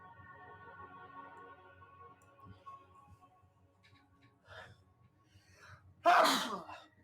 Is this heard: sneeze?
yes